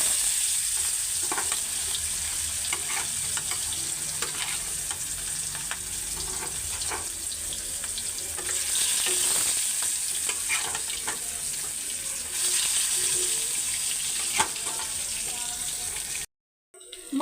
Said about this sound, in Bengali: মশলাটা মাখায় রাখছি, শুধু ভাজবো।